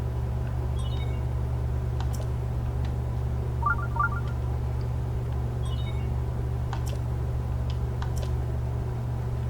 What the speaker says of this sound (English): So, here's the problem with the Sheikah sensor. You hear that sound it makes?